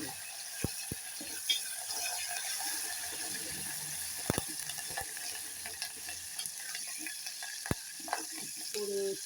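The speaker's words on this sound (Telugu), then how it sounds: "ఎండుమిరకాయలు వేస్తున్నానండి. కరివేపాకు వేసానండి." Dried red chillies and curry leaves fry in hot oil as a tempering for a curry. A steady, fairly quiet hiss runs throughout, broken by sharp scattered pops and a few clinks.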